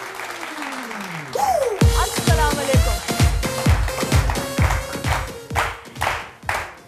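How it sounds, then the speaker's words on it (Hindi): An audience greets a doctor arriving as a guest with rhythmic, evenly spaced group clapping, loud and close. A brief spoken greeting comes first and voices continue under the claps. "बहुत सारी तालियां डॉक्टर साहब के लिए।"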